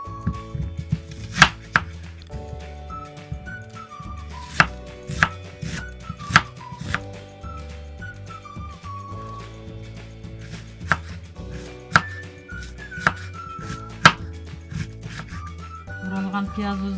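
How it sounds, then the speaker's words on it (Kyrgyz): Onion is diced into cubes with a knife for manty filling, producing crisp, close chops spaced irregularly through the stretch, set against steady background music. "Пиязды да кубик түрүндө майдалап турайбыз"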